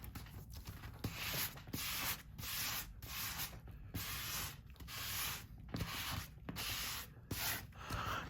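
Crayon rubbed over a feathery stencil laid beneath a National Geographic magazine page makes a close, dry scratching sound in rhythmic strokes, each lasting about a second and separated by short pauses.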